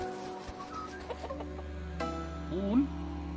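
Chicken clucking in the farming video game Dinkum, a few short fowl calls with a rising squawk near the end over steady game background music, moderately loud and close.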